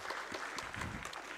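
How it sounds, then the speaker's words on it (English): Brief, fairly faint clapping from an audience at a medical summit held by a doctors' association in Mumbai, many hands patting together steadily with no distinct voices. "Let us all clap for all the Tilaks, small, big, and bigger."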